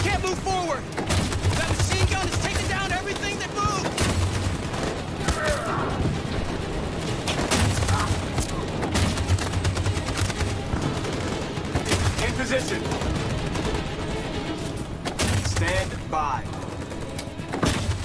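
Sustained gunfire and volleys of shots from the video game Detroit: Become Human, dense and continuous throughout with booming impacts, heard under intermittent talk.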